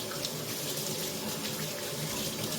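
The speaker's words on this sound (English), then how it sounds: "I might seem to over-rinse my cups, but if I don't, I find they taste like soap" Tap water runs steadily into a kitchen sink while cups are rinsed under the stream, giving a continuous close splashing hiss with small shifts as the cups move through the flow, and no talking.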